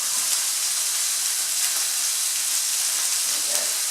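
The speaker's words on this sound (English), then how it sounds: "I'm just going to add that to my casserole dish, which by now is warm enough, hot enough to begin with sautéing the onions." Chopped onions sautéing in a hot casserole dish for lamb tagine, giving a steady, bright sizzle and hiss close up that runs unbroken throughout with no talk.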